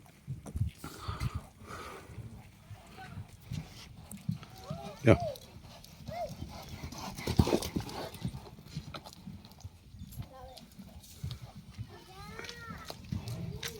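A horse's hooves clop along the ground while running, irregular thuds scattered through the stretch, with people talking in the background and occasional other animal sounds.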